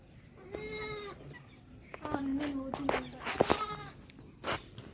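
Goats bleat at a village home, several wavering calls at close range, some overlapping, with a person speaking among them.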